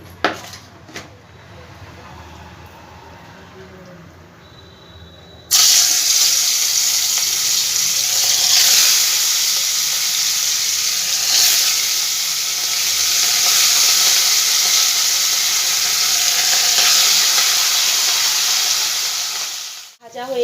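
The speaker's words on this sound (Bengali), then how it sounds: "তেলটা আমার মোটামুটি গরম হয়ে গেছে এবার মাছগুলো সব আমি ভেজে নেবো একে একে" Rohu fish pieces dropped into hot oil set off a loud, steady sizzle that starts abruptly after a few quiet seconds and crackles continuously before cutting off at the end.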